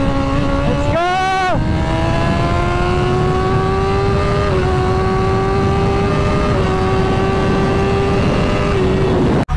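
A BMW motorcycle at full throttle, a loud close engine climbing steadily in pitch through a long continuous rev after a brief blipping burst, then cutting off abruptly at the end.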